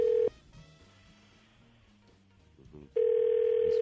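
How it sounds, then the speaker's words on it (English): Telephone keypad dialing tones on a radio show: a steady DTMF tone at the start, a quieter stretch of short tones and handling noise, then a loud sustained tone returning at the end, with no talking. "Let me dial this."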